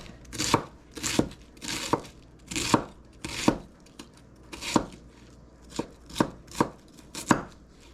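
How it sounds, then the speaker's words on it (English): A knife finely slices a hunk of purple cabbage on a cutting board, producing about a dozen crisp, close chops at a steady, slightly uneven rhythm, with nothing else heard. "So I'm going to grab a little hunk off of that. Just going to finely slice it."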